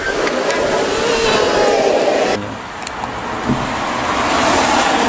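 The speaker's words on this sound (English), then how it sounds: "We got a lot of cars driving by our house" Cars passing a house on a wet road during a storm, a continuous tire hiss with wind, one swelling pass fading and another following.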